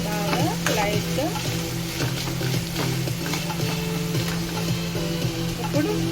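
Barbatti seeds fry in a pan until they turn light brown. A steady crackling sizzle carries through, with faint tonal sounds drifting above it.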